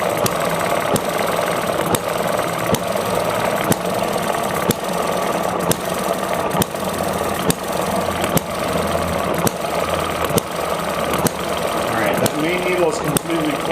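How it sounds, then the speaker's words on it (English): An ET6 model engine runs flooded on leaked fuel with its needle valves closed, a steady mid-pitched drone marked by regular sharp ticking beats throughout, with someone talking over it. "It leaks enough fuel to keep the ET6 running"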